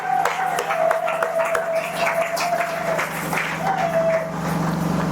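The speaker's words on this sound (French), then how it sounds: "acclamez très fort ce message" A church congregation applauds in sustained, loud clapping that fills the hall, mixed with shouts and a ringing tone, without pause throughout.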